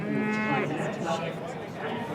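Australian Lowline cattle moo at a breed show, one long loud harmonic low from a nearby animal opening the moment and fading into a busy murmur of the showground.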